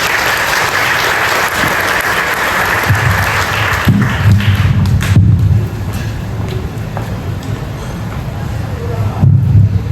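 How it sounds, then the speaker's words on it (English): Audience applause at a university employer networking event, a dense, steady wash of many hands clapping that carries on for the full stretch with faint crowd murmur underneath. "Can we please give her another round of applause?"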